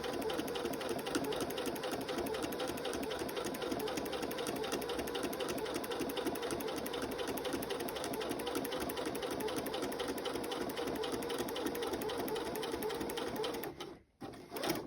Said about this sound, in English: I'm just letting the walking foot pull the quilted layers through